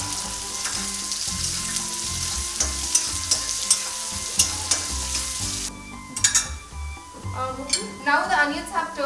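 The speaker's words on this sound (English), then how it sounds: "Now I'm going to add 1 large onion that I've finely chopped. So I'm going to saute this on a medium flame till it turns golden brown." Finely chopped onion sautéing over a medium flame for a green kadai chicken, with a steady close hiss of frying under clinks and scrapes of a spoon stirring in the pan, busier toward the end.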